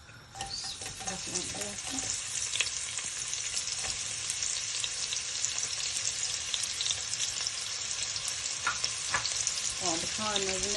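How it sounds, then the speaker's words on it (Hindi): Chopped onions sizzle and crackle steadily in hot oil in a pan for paneer biryani, with occasional stirring scrapes, loud and close, running continuously throughout. "ये गर्म होता है ऑयल, तो हम इसमें ऑनियन ऐड कर देंगे।"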